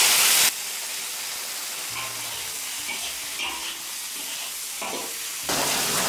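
Rice field eel stir-fried in a wok with rice wine: a steady, loud sizzle and hiss, with faint scraping stir sounds and brief bursts of steam at the start and end.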